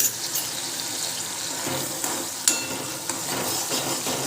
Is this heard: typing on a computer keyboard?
no